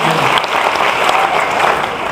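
Comedy show audience clapping in a steady, dense burst of applause from a crowd, loud and close, with no talk over it.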